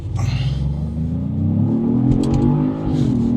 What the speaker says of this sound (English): let's hop out here and get a 0 to 60 real quick